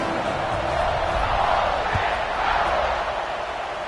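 A football stadium crowd at Ole Miss vs Tennessee roars before a kickoff after a touchdown, a dense, sustained, distant wash of cheering with no clear individual voices.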